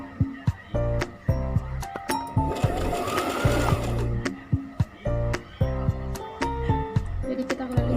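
A sewing machine stitches a hijab scrunchie in short, rapid mechanical bursts broken up by repeated sharp clicks and knocks, with a longer steady whir midway, close up while someone talks throughout.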